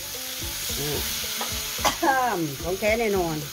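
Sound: stir-frying basil leaves with fish

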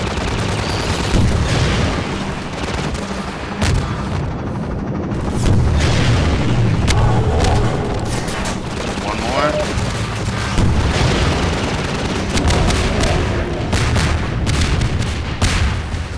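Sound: weapon firing energy balls in Half-Life 2 video game

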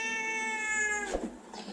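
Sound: cat meowing and yelling at a dog

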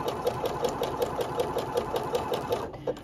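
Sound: sewing machine stitching with a three-cord gathering foot

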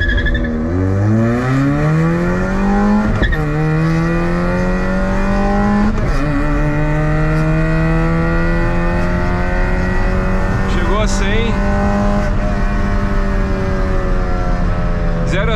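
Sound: VW Saveiro 1.6 MSI engine revving during 0-100 acceleration

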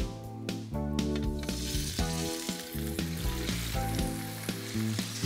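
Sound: pork bondiola involtini searing in oil in a pan

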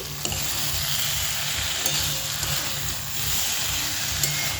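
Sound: poppy seed paste frying with potato and drumstick

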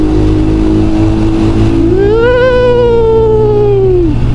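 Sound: two motorbikes riding inside a mountain tunnel

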